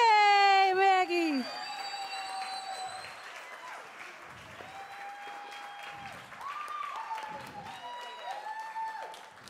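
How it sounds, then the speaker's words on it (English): An audience at a theatre gala applauds for a performer, a soft wash of clapping beneath a singing voice that fades out, followed by spoken voices. "How about a big round of applause for Maggie here?"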